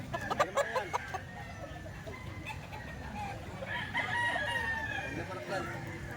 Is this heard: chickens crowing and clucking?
yes